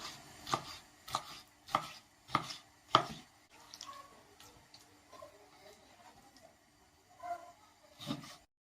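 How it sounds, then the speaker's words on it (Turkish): A knife chops liver steadily on a cutting board, about five sharp evenly spaced strikes, then a few softer, irregular chops after a pause. "Sıra geldi ciğerimizi doğramaya."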